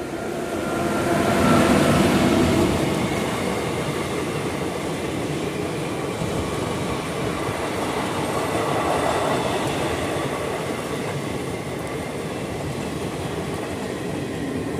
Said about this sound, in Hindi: ये इधर से भी एक ट्रेन आ रही है